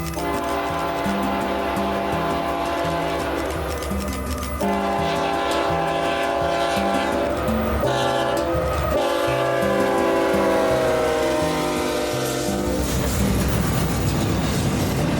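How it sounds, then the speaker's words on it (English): A freight train led by SD70M locomotives rolls past close by, its horn sounding in repeated blasts over the steady rumble and rhythmic clatter of railcars, with no talking. "my next train showed up, which was the one I was looking for"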